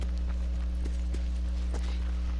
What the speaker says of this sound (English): Hear those footsteps?